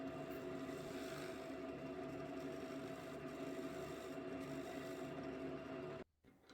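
A wood lathe turns a small wooden bowl while a gouge cleans up the tenon, giving a steady, even whirring hum with a light cutting hiss that runs unbroken for about six seconds before stopping abruptly.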